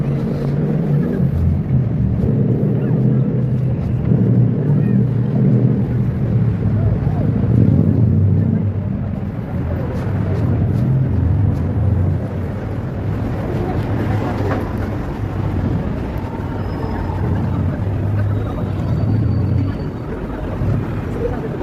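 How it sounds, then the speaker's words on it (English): Wind outdoors on a cloudy day buffets a phone microphone, a rough low rumble that surges and dips continuously throughout, with a person talking over it at times. "Windy out there, cloudy, like rain"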